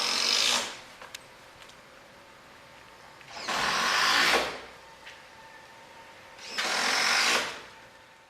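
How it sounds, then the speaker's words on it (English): Battery drills driving small 4 cm screws at a construction site next door, three separate whirring bursts of about a second each with quiet gaps between, moderately distant. "It's battery drills drilling in these little 4 centimeter screws."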